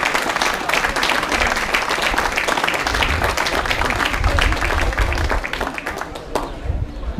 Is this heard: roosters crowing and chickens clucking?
no